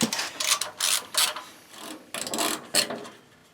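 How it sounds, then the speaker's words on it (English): A 1/2 inch socket ratchet loosens nuts on the top plate of a cast iron Biasi boiler, short bursts of rapid close clicking repeated in uneven strokes. "socket ratchet."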